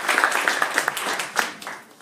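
A short burst of scattered hand clapping from a gathered audience honoring Leon Wildes, a few distinct claps rather than a full ovation.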